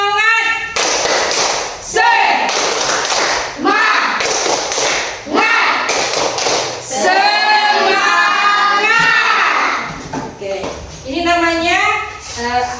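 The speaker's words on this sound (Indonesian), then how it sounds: "Tepuk semangat dulu. 1, 2, 3. Tepuk semangat." A class performs a rhythmic group clapping routine, with sharp bursts of many hands in a set pattern alternating with the children's chanted voices, loud and close.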